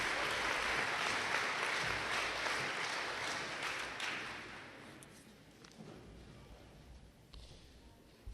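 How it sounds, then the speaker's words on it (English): Sustained applause from a crowd at a high school senior honors night, loud at first and gradually tapering off, with a few scattered claps near the end. "Let's also give a round of applause to our NHS advisors, Ms. Smith and Ms. Petz."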